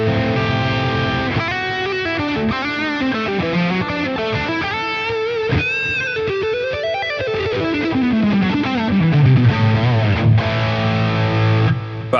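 A distorted electric guitar through a Friedman BE-100 amp model on a Line 6 Helix or POD Go plays a continuous riff with chords and sliding bends, thick and saturated, with no voices.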